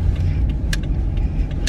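A car pulls away slowly in a parking lot, a steady low engine and road rumble heard from close by, with a few faint clicks and rattles over it.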